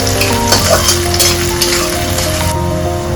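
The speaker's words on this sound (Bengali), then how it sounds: "পেঁয়াজটা হালকা লালচে করে ভেজে নিতে হবে" Onions fry in oil in a pan with a loud, dense sizzle close at hand and crackling spits near the start, and a steady hum runs underneath.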